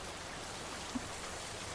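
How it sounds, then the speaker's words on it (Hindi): Sudden unseasonal rain falls as a steady, even hiss of drops, with one faint tap partway through and no voices. "अरे, बिन मौसम बरसात होने लग गई है।"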